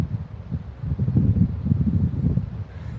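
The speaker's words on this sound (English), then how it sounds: "Here comes one of the gusts now." A gust of wind buffets the microphone outdoors while fishing, a steady low rumbling roar that swells and holds for several seconds, loud and close with no talk.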